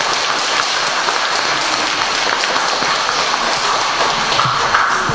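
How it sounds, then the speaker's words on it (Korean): A church congregation at a Sabbath school gathering breaks into loud, dense applause that fills the whole stretch steadily, with no talking over it. "자, 박수 한번 치겠습니다."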